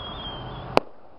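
A single sharp firework burst at a Santa Claus day display, loud and sudden against a steady background rumble of distant crowd and ambient noise, then fading quickly.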